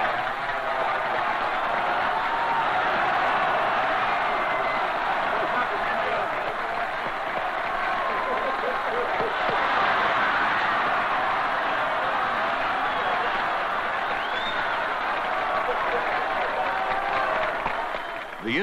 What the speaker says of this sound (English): Sukarno leads the applause